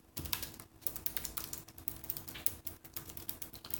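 Rapid keystrokes on a computer keyboard while writing a note, a close, steady run of clicks with no talking.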